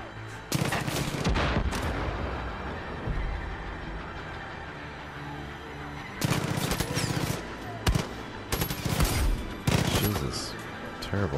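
Gunfire in the video game Far Cry 5: loud bursts of rapid automatic shooting in several clusters, with a steady rumbling in-game background between them and brief talk at moments.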